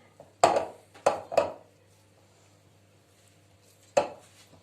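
A spoon works fried tomato paste into kısır, a bulgur salad, in a bowl. Four sharp, close clinks and thuds come in a quick cluster of three, then a lone hit after a quiet gap.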